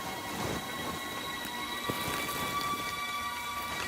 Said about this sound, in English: All that rain dripping.